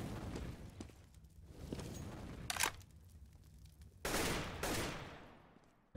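Gunfire in a Counter-Strike match on the Inferno map, including a P250 pistol shot: a loud sharp crack near 2.6 seconds and a heavier burst around 4 seconds, over busy game ambience and background noise.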